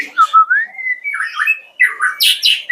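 A young white-rumped shama gives a run of squawking, whistled calls and chirps, loud and close with no other sound, rising and falling in short bursts over a few seconds.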